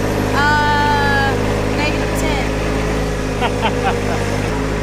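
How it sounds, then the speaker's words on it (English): A compact tractor plowing snow across a driveway in cold weather gives a steady, close, low engine drone throughout, and a voice speaks briefly over it near the start. "Now, Katriel, when I plow snow, I use the float position."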